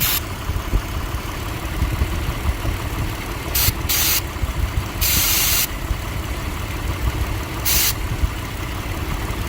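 Mitsubishi Montero 3.8L petrol engine idling steadily while carb spray is shot at a vacuum leak, the close hissing spray bursts coming in several short blasts over the loud, continuous engine rumble.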